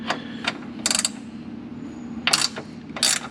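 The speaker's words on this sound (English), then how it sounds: "Have a little ratcheting wrench here, which is great." A ratcheting wrench tightens a 13 mm bolt while a tune is installed on a Redeye engine, giving four crisp bursts of rapid metallic clicks with quiet pauses between them.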